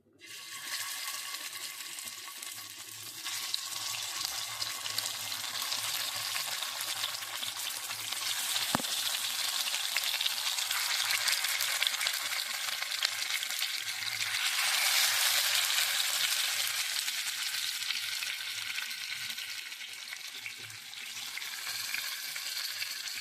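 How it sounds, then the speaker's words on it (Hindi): Marinated fish frying in hot oil, a continuous bright sizzle that swells and fades as pieces cook, steady and close for over twenty seconds, with a brief clink partway through and no talking. "एबे मु फिश फ्राई"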